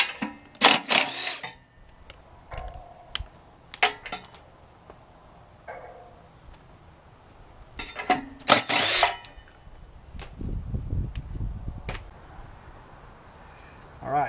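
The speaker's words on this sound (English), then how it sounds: "I'm going to use this wrench, this automatic wrench, and I'm just going to take those off" Automatic impact wrench taking wheel nuts off the rear wheel of a 1994 Ford F53 chassis, heard in several short, loud rattling bursts separated by pauses, with clanks of tools and nuts in between.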